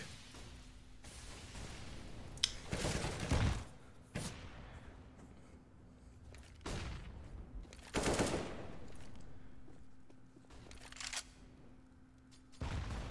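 Counter-Strike gunfire on the Mirage map in a competitive match rings out in several sharp bursts and rapid volleys, separated by quieter gaps, at moderate loudness.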